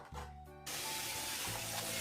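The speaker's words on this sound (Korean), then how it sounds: "20분간 식초물에 담궈둔 연근은 2번 헹구어 식초의 향을 씻어내고 체에 받쳐 둡니다" Lotus root, soaked in vinegar water, being rinsed: a steady, hissing rush of running water that starts abruptly and continues close and fairly quiet, after a brief tonal hum.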